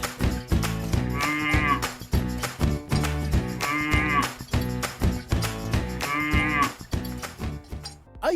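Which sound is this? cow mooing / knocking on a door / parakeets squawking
cow mooing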